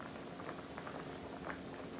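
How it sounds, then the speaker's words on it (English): A small pan of water at a steady boil, heard as faint, continuous bubbling with no pauses. "I have a little pan of water here that I am boiling."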